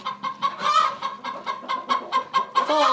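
Hens cluck in their wooden nesting boxes in a backyard coop, a close, busy run of short rhythmic clucks and murmurs over about three seconds with no talk.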